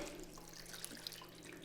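A faint, steady stream of liquid pours into a pot of basmati rice, a soft continuous trickle with a low background hum, heard alone.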